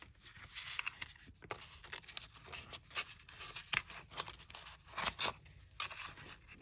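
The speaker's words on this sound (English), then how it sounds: "I cut out the frame on one of these stickers." Scissors snip repeatedly through a paper sticker in an art journal, cutting out its frame; a close, steady run of crisp cuts with slight crunching, no voices.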